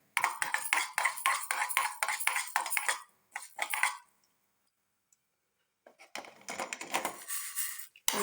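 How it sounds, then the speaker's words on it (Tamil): Lentils dry-roasted in a pan for thiruvathirai kali, giving a quick run of scraping, stirring clicks for a few seconds, a pause, then a second burst of stirring close by. "நல்லா சவக்க வறுத்துட்டு"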